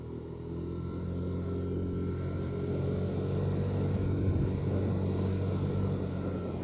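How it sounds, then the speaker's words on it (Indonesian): A car passes on a darkening mountain road near Puncak Suroloyo, a steady low engine rumble that swells slightly and then eases, heard without talk. "Ada mobil, hati-hati."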